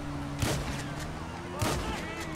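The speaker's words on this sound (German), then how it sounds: "Habe ich den aus Versehen von seinem Motorrad geschossen? Mit der Schrotflinte." Shotgun firing in GTA Online, two sharp booming blasts about a second apart over a steady background game bed.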